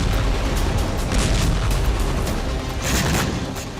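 Heavy booms and rumbling blasts from Russian FAB-500 bombs striking occupied areas of Ukraine in wartime, a loud continuous roar with repeated bursts and no speech.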